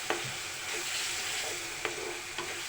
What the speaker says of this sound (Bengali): দিয়ে ভালো করে তেলের মধ্যে টমেটো সহ আমি মশলাটাকে কষিয়ে নিব